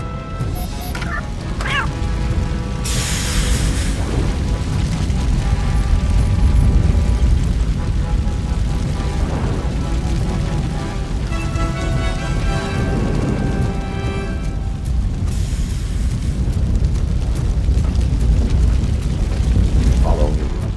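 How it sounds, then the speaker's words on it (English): Fire roaring across a blocked passage in the Robocop: Rogue City video game, a loud continuous rumbling crackle with bursts of hissing and crashing, heard under occasional game speech. "Fire is blocking the way."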